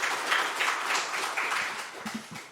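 Church congregation applauding during a Sunday worship service, steady clapping from a crowd heard clearly throughout and tapering slightly at the end.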